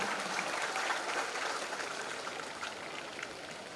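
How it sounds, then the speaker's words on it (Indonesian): Outdoor audience at a 17 August Independence Day ceremony in Biak Numfor, Papua, applauding for President Jokowi: a steady, dense wash of clapping that holds evenly throughout and fades only slightly toward the end. "Mari kita beri aplaus yang luar biasa dari Biak Numfor untuk Jokowi di Jakarta"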